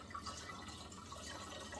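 Room temperature water pours into a jar for a kombucha batch, a soft, steady trickle and splash lasting under two seconds, faint and close with no talk.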